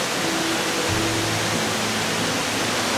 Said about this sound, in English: Made it to the falls, and I can already see that the falls are not in their at their strongest